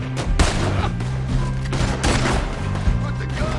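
Rapid bursts of gunfire from a shootout in Red Dead Redemption 2, loud and dense volleys layered over a rumbling game soundscape for a few seconds.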